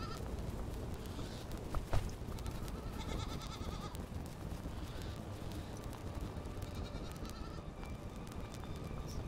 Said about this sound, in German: Noch eine Ziege.